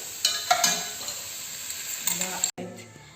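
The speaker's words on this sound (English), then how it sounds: "So now I'm adding the lentils." Dry lentils poured and stirred into a pan of softened onion, celery and carrots, a close, hissing sizzle with scraping stirs that stops briefly before resuming.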